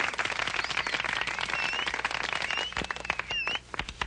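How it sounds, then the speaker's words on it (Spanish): An audience claps steadily and fairly faintly to make a toy elephant dance, with a dense patter of hands that fades near the end and a few faint voices. "Vamos a darle un fuerte aplauso para que baile."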